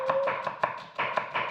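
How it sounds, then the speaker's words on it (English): A knife slices a red onion on a chopping board, giving a quick, even run of about seven crisp close taps with no talk. "So red onion, chop it into nice slices like so."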